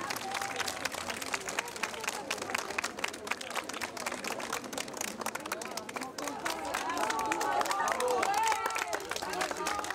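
Applause in a crowd outside an assize court as a Toulouse lawyer walks out. Scattered clapping and crowd bustle build and swell near the end while people talk over it.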